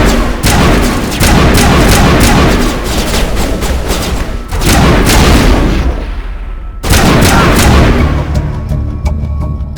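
Heavy gunfire in Mass Effect Legendary Edition, loud rapid bursts of shots and booming impacts in long runs broken by short pauses, nearly continuous and close.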